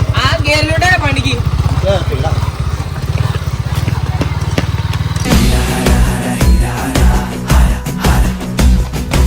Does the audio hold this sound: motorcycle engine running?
yes